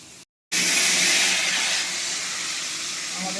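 Pieces of fish dropped together into hot oil in a home kitchen pan, starting with a sudden loud burst of hissing sizzle that settles into a steady, close frying hiss with no talking.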